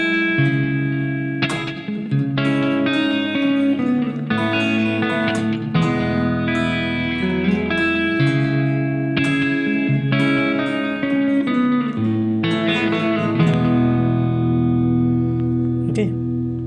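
An acoustic guitar plays a strummed and picked intro, chord changes ringing clearly and close, steady rhythm throughout with no singing.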